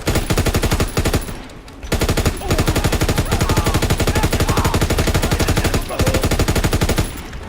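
Sustained automatic weapon fire from a World War II era gun in the Call of Duty WWII campaign, loud rapid bursts with brief pauses, near and dominant throughout.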